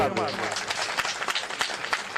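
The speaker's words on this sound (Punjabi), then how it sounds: "ਇਹਨਾਂ ਦੇ ਨਾਂ ਤੇ ਤਾੜੀਆਂ ਮਾਰੋ।" Audience clapping at the opening of a gurdwara in Abbotsford, a dense, steady patter of many hands lasting the whole moment, fairly close and busy with a few sharper claps standing out.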